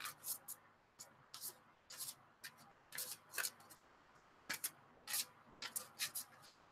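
Tarot cards are shuffled in quick riffling bursts, soft papery flicks and slaps in an irregular rhythm, close by and fairly quiet.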